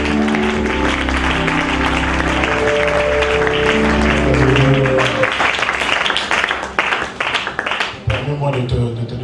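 A concert crowd at a Christian gathering cheers and applauds for Jesus, a dense roar of clapping and voices that thins out toward the end, with a voice speaking over it.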